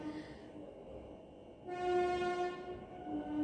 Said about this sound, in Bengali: এমনি ট্রেন যাচ্ছে ট্রেন লাইনের ধারে বাড়ি হলে যা হয়